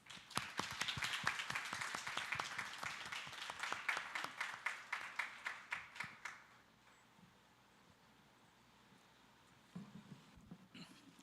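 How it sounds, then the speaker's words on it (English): An audience at a diplomatic anniversary event claps for the chief guest in a steady burst of applause that fades out after about six seconds, leaving quiet room tone with a faint stir near the end. "Let us all give a warm applause to our chief guest to deliver the keynote address."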